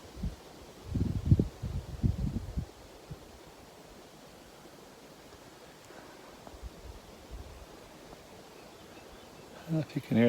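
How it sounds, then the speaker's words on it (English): Wind gusting through trees along a Colorado mountain trail, a soft broad rush that swells and fades steadily for several seconds, with a few brief louder rustles or bumps near the start and end. "the wind blowing through the trees"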